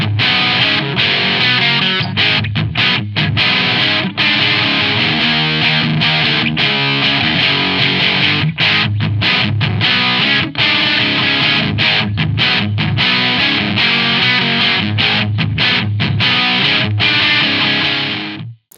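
Electric guitar played through a Boss XT-2 Xtortion distortion pedal, thick saturated fuzzy chords and riffs ringing continuously and loudly for almost twenty seconds with short choppy breaks, no talking.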